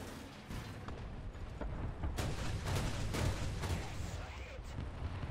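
M19 twin 40mm automatic cannons firing in a World War II combat game, a rapid series of heavy thumping shots and booms close by, mixed with battlefield rumble.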